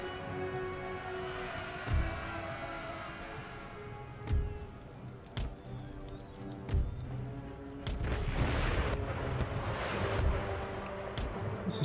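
Howitzer artillery in an Empire: Total War battle, distant booming shots landing every couple of seconds over a constant rumble of battlefield noise that swells near the end.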